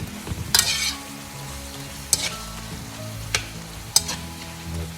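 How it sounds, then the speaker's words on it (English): Beef steak stew for bistek tagalog stirred in a hot pan, with a low continuous sizzle broken by a few sharp scraping strokes of the utensil, heard close and without talking. "Let's give that a stir."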